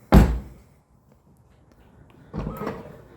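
A Ford Mustang Mach-E door with stainless steel latch covers gives a sharp close thunk of the latch releasing, then after a pause a softer, longer rustle and swing as the door opens.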